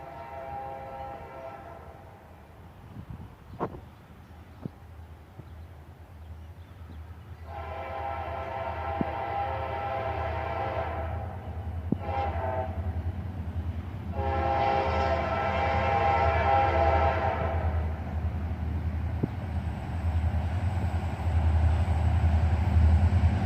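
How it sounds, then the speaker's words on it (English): A CSX freight train passes with its horn sounding in several long blasts, separated by gaps, over a steady rumble of railcars that builds as the train draws nearer. "I waited 20 minutes for this first train to appear."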